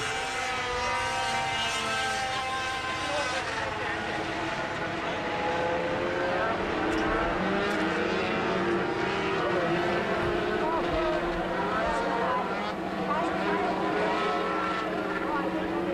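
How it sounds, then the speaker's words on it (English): Wisconsin Sport Trucks racing in a heat race, a steady roar of several engines with rising and falling pitch as the trucks circle the track, under an announcer's commentary. "We're halfway through heat race number 1 for the Wisconsin Sport Trucks."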